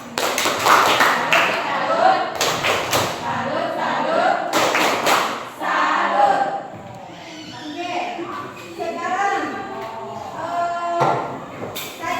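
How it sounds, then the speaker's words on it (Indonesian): Applause from a classroom of students for a presenting group, broken clapping with thumps and taps mixed with children's voices and talk throughout. "Berikan tepuk tangan dulu untuk kelompok 4"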